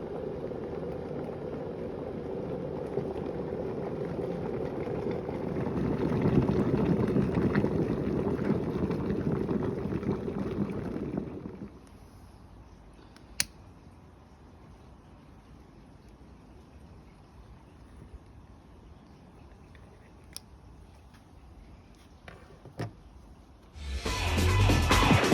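An electric kettle heats water, giving a steady low rumbling hiss that swells for about eleven seconds, then drops to a quiet hum with occasional faint clicks before a loud burst at the end.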